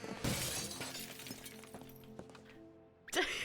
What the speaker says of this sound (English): Just smashed the window.